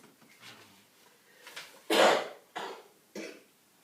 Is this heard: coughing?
yes